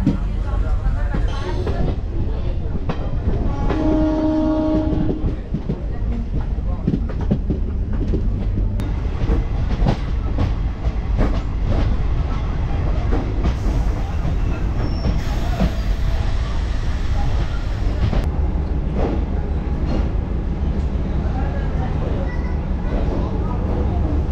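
A DEMU special train running from Haldibari to Siliguri Junction, loud continuous rumble with clattering wheels and squealing rail noise, a voice talking over it.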